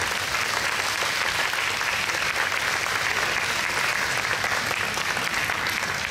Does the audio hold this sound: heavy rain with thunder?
no